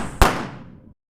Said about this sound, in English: a gunshot echoed through the neighborhood